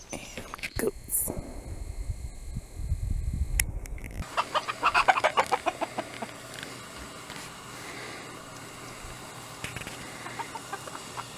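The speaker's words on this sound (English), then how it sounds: "Chickens." Farm chickens cluck in a run of short, repeated, fairly close calls on a windy day, following a burst of wind buffeting and brief speech at the start.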